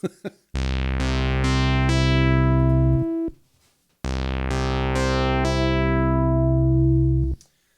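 Two sustained synthesizer oscillator tones from a Moog One or Prophet 10, each holding steady for about three seconds with a sharp attack and abrupt cutoff, separated by a short silence.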